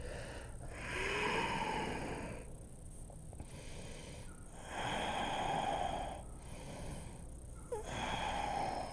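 Slow, steady breathing during a hamstring and hip yoga stretch: long airy inhales and exhales alternate in an even rhythm, close and fairly soft, with no talking.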